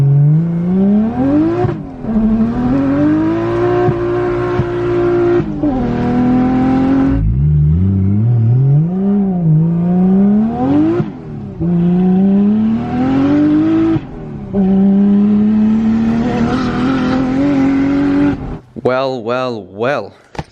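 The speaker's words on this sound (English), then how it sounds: "I'm going to try to take it for a test" A Nissan Silvia with an RB30DET engine and a new diff, fuel pump and fuel filter drives loudly on a test run, revving up and down through repeated gear pulls with engine pitch climbing and dropping.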